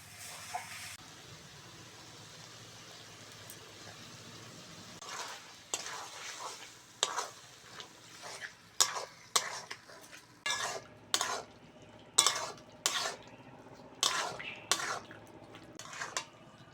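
Fish masala with sour yogurt is stirred and fried in a pan, starting as a quiet sizzle and then breaking into a run of sharp, regular spatula scrapes and clinks against the pan, close by.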